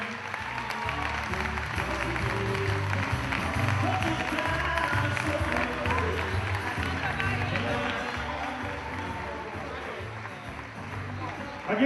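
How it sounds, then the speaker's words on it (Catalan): A sports gala audience claps loudly and steadily for the event's honourees, a dense crowd roar sustained throughout, with a speaking voice mixed in. "Fort aplaudiment per a ells també."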